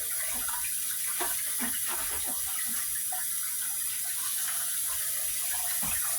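Tap water running steadily into a sink while fumbwa leaves are rinsed, a continuous close splashing wash with small irregular spatters.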